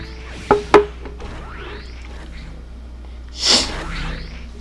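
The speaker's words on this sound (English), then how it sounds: "I have a bit of a sniffles today." A person sniffs sharply twice, then lets out one breathy sneeze a few seconds later, heard close over faint, steady background sound from a Virtua-On MARZ video game session.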